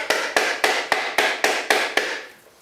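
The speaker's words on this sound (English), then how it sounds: "a ball peen hammer is a pretty good hammer for this" Ball peen hammer beating a coconut shell, eight sharp evenly spaced blows in a steady rhythm, close and clear with a ringing decay after each strike, fading out after the last hit.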